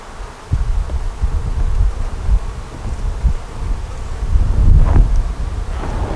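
Honeybees buzz steadily at an open hive during a frame inspection, a dense close drone with wind rumble and rustling, rising slightly near the end, no talk.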